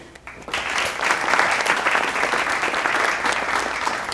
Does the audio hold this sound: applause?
yes